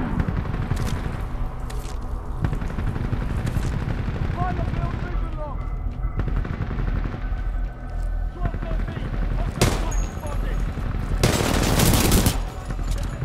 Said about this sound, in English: let's try this gun out, why not? R97.